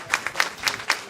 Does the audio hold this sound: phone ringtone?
no